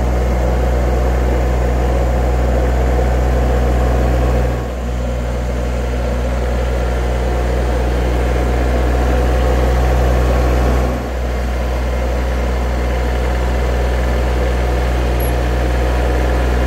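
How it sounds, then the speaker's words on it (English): A tractor engine drones steadily close by, low and loud, while a silage pile is packed down on a farm, with two brief dips in the rumble partway through. "I'm gonna go get my tractor and we're gonna pack it down."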